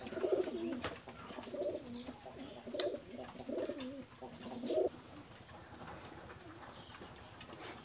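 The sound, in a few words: pigeons cooing, red-eyed Khulna pigeons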